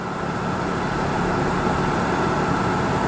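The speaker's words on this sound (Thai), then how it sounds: "ตอนนี้ลองเร่งเครื่องนะครับ" A Jeep Cherokee with 165,536 km on it and a newly replaced air-conditioning compressor, evaporator and blower runs with the engine held up, a steady, loud, broad roar without pauses.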